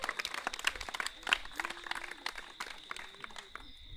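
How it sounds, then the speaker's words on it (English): Scattered applause from an audience at an evening event thanking sponsors, a modest crowd clapping with sharp uneven claps, fairly quiet and close. "so a big round of applause for them, everyone"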